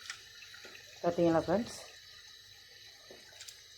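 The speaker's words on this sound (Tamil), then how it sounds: "கொஞ்சம் தண்ணி ஊற்றி" A little water poured to work rava (semolina) dough, a short splashing pour lasting about half a second amid quiet kitchen background, with a person talking.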